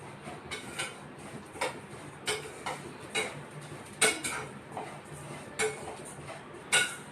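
A spoon stirs semiya ada frying in ghee in a pan, giving a series of sharp, irregular clinks against the metal over a low, steady background hiss.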